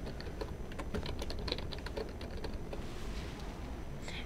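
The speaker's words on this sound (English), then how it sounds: "and I'll type in Burke Properties" Typing on a computer keyboard while entering text into Microsoft Word 2007, a steady run of quick, close key clicks with no voice.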